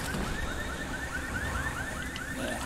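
A car alarm wails in the Dying Light video game, its rising electronic tone repeating in a steady cycle over a dense, continuous backdrop, fairly loud and alone with no voices.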